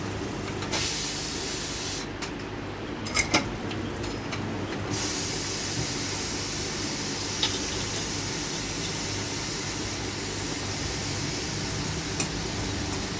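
Steam hisses loudly and steadily from a pressure cooker as its lid comes off, a continuous close spray-like rush lasting many seconds with a few small clicks.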